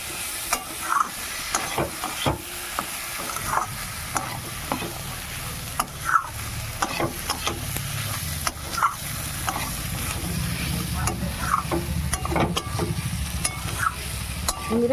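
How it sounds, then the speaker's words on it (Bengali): Rice and green peas stirred in a pan for Bengali muri ghonto, a spoon scraping in steady strokes over a soft background sizzle, close and continuous with no voices. "ভালো করে নেড়ে চেড়ে নেব।"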